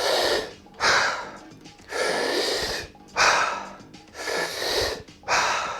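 Deep, forceful breaths in a guided breathwork session, five long airy surges each lasting around a second, rising and falling in a steady rhythm, close and loud with no talking.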